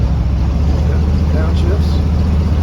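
A 1979 Chevrolet Suburban drives along with a steady, close, low engine drone and road rumble; individual downshifts are not distinct.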